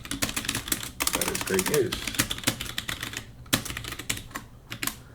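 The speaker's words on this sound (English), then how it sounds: "And so I can type in" Rapid clicking keystrokes on a computer keyboard while replying to a text message, running steadily under a nearby person speaking.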